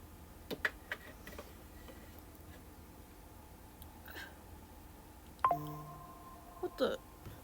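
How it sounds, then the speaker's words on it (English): Phone notification chime from the Monopoly Go game, a short stepped electronic tone sequence ringing out faintly indoors after scattered light clicks and taps. "Why's my phone going off?"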